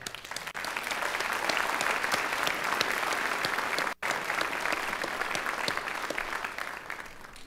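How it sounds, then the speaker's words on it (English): A large graduation audience applauds master's engineering graduates at a Northwestern ceremony, a sustained dense roar of clapping from a big crowd with a brief dropout midway before resuming steadily. "Let's give them a round of applause."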